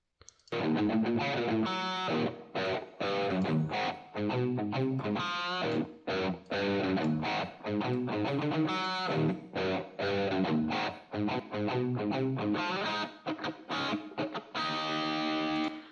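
An electric guitar plays chords and single notes through Acoustica Reverb in Mixcraft, with a lush reverb tail filling the gaps between phrases, loud and continuous with no voices.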